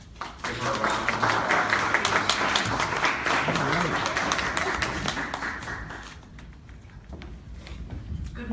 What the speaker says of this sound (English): Give her a round of